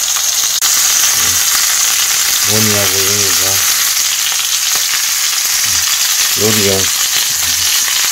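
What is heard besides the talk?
tomahawk steak grilling in a pan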